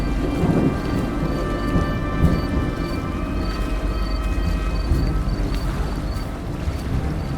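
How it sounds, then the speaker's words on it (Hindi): Steady heavy rain pours down with low rolling thunder rumbling throughout, a dense continuous storm bed for a horror story set near a rushing river on a dark night in Dholapur. "बारिश शुरू हो चुकी है"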